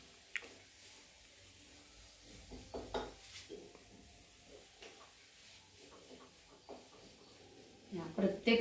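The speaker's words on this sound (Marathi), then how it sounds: "आता हे सगळं हलवायचंय, म्हणजे मिक्स करायचंय" Radish pieces coated in gram flour are stirred in a pan, making faint, scattered scraping and tapping sounds, with a quiet voice speaking underneath and a louder clatter near the end.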